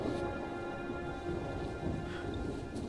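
Storm in Uncharted 4 with steady heavy rain and a low continuous rumble of thunder, a dense wash of sound that stays even and unbroken, with no voices.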